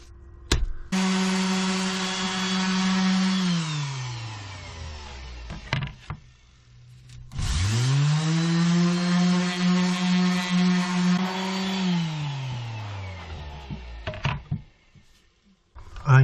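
An electric power sander on a routed walnut wood sign, running at 240 grit: a loud whining motor that spins up, holds steady, winds down and starts again, with brief clicks and a short pause between runs.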